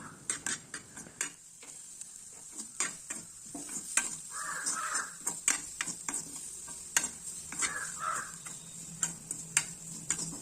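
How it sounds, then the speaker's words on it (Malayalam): Mussel (kallumakkaya) roast being stirred with salt in a pan, a spoon scraping and clicking in a steady run of sharp strokes over a faint sizzle, close and alone without talk. "ഒരൽപ്പം ഉപ്പ് കൂടെ ഇട്ട് നന്നായി ഇളക്കി യോജിപ്പിക്കുക"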